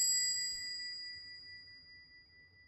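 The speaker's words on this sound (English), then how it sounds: "The bell of the door immediately goes off again." A door bell in a martial arts dojo gives a single bright ding that rings on and slowly fades, clear and alone over a faint low rumble.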